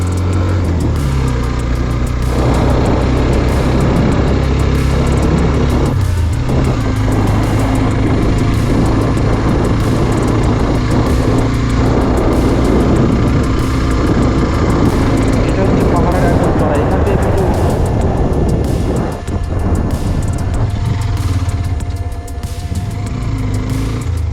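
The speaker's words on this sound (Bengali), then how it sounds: "দু নাম্বারে দিয়েছি তাও বাইক উঠতে যাচ্ছে না" A motorbike climbs a steep monsoon hill road in North Bengal in second gear, its engine droning loud and close throughout with strained, labouring pitch shifts, and a rider's voice cuts in over it at times.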